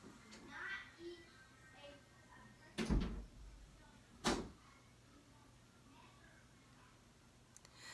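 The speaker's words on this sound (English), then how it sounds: "Close the door" A door shuts in a home with two sharp, loud bangs a second or so apart, while a voice talks softly around them.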